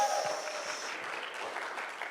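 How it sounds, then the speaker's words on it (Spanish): A church congregation breaks into a burst of applause, with broad, even clapping from a crowd at moderate volume that fades gradually. "dale un aplauso fuerte a Dios"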